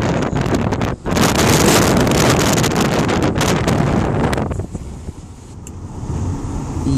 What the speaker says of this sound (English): that was windy.